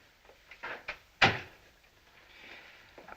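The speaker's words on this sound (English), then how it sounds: "Close the door." An indoor door in an early 1960s British drama swings shut with a single firm thud, preceded by faint shuffling movement and followed by quiet room tone.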